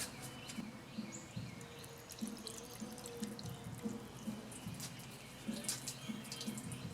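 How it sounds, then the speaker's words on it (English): A cup of water poured onto a car body, trickling and dripping as it runs off, quiet and close with small irregular splashes and a faint background chirp. "So we'll take this cup of water, and I'll dump that on there, and the water's going to come around and run out."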